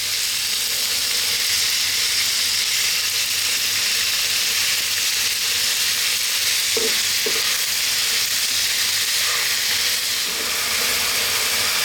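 Ground beef for lasagne frying steadily in a pan over medium heat, a loud continuous close sizzle and hiss throughout with a couple of faint utensil scrapes partway through.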